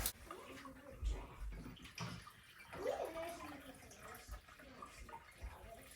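Hot water poured into a container to measure out 100 grams for salt water, a soft continuous trickling stream running throughout at low level.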